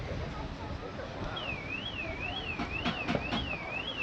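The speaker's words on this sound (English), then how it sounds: "I was panicking, it's my alarm that's going off, but it's not." A car alarm wails with a rising and falling siren tone, fairly faint and distant, over outdoor noise and murmuring voices at a cars and coffee meet in Jedburgh, Scottish Borders, with a few sharp chirps.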